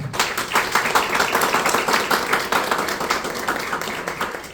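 Steady, loud applause from an audience welcoming an author at a book presentation, many hands clapping densely and continuously, slowly tapering toward the end.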